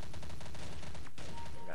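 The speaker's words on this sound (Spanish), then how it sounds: "Ahí tenéis unos disparos bien dados" Rapid bursts of gunfire from the video game Counter-Strike: Condition Zero, in a gun game match, crack in a fast, steady rhythm. The shots are close and loud, pause briefly, then resume.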